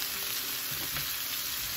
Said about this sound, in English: Onions are cooking